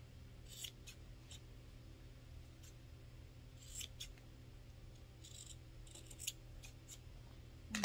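Scissors trimming the corners of sewn fabric: several quiet, crisp snips scattered through the stretch against a low background hum.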